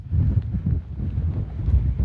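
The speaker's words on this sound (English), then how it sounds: "It's a little too windy for the drone too" Steady, blustery wind on a mountain summit in the Rockies buffets the microphone with a low, rumbling roar that gusts and eases without a break, with no voices.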